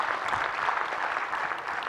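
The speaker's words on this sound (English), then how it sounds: "maybe one more round of applause for the four of them." An audience at a CHI Innovate 2023 conference session claps in a steady, even round of applause, moderately loud and unbroken, with no speech.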